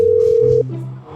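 A steady telephone tone sounds loud and close for about half a second while a call is placed to a doctor, then cuts off, leaving quiet room noise.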